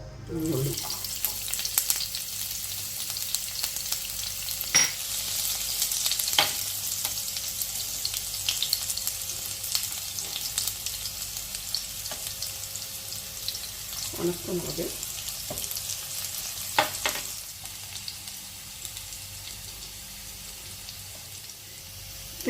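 Onions tempering in ghee for a tomato dal, a low continuous sizzle in the pan with a few brief clinks and stirring knocks scattered through.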